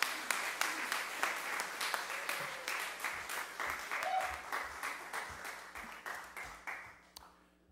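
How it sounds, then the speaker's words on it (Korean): Church congregation applauding two young people at the close of a Sunday worship prayer, a dense steady clapping lasting several seconds before trailing off, with faint voices underneath. "우리 두 청년을 위해서 박수로."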